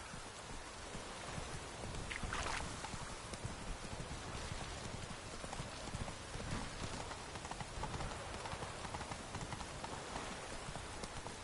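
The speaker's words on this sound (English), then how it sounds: "It's really raining now." Steady rain pours down in The Witcher 3, a dense, even wash of hiss and patter that runs the whole time, with occasional faint clopping like hooves beneath it.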